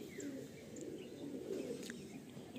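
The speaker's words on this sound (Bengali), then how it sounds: "ধাড়ি পায়রা, অ্যাডাল্ট।" An adult Howrah Madrasi loft pigeon coos softly, low and muffled, with faint chirps from other birds nearby in a quiet setting.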